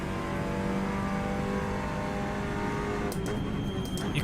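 A front-wheel drive race car's engine in a racing video game drones steadily at high revs throughout, with a brief shift in tone near the end.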